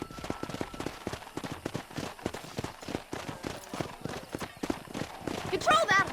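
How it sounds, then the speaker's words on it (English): Horse hooves clip-clopping at a brisk, steady pace in the Red Dead Redemption video game, a dense rhythmic pattern throughout with voices talking over it and a brief whinny-like sound near the end. "Control that horse, will ya?"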